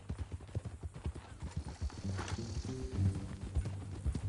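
Rhythmic clip-clop of horse hooves walking at an even pace in the video game Red Dead Redemption 2, fairly soft, with a brief whinny and low rumble midway.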